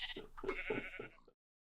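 Several sheep bleat in quick succession, fairly close and clear, a chorus of overlapping cries lasting about a second before cutting to silence.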